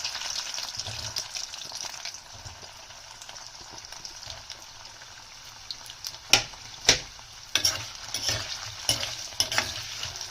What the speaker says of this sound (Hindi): तो हम पहले पनीर को लाइट फ्राई करेंगे।